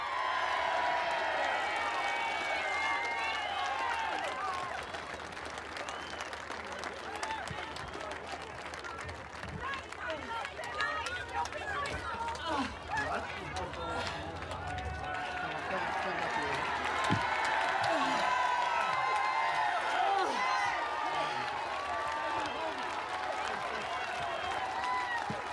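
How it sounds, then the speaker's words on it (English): Crowd at a political rally against a carbon tax in Canberra applauding and cheering, a sustained wash of clapping with whoops and voices rising and falling throughout. "give him a big round of applause"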